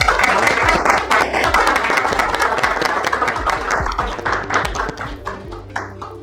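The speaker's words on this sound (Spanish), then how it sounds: "un aplauso por favor para nosotros" Audience applause at a philosophy and business masterclass, a dense, loud wash of many hands clapping that holds steady for several seconds before thinning slightly toward the end.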